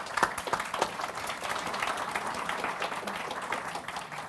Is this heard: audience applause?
yes